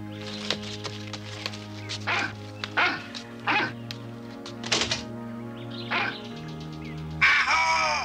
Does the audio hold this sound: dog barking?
yes